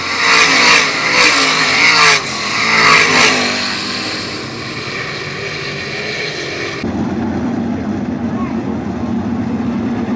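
305 sprint cars racing at Attica Raceway Park, loud engines roaring and revving past on a dirt oval, fading to a steady distant drone while a track announcer talks over them.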